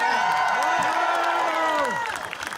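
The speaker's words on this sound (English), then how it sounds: "round of applause" Crowd at a Philadelphia Eagles rally at a community house breaks into cheering, whoops and clapping, loud and close, while a voice speaks over the noise before it fades slightly at the end.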